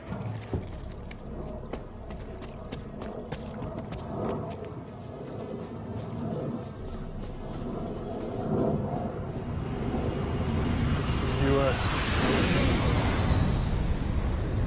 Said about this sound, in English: It's coming into land. No, it's not American, it's Russian. It's a Blackjack stealth bomber.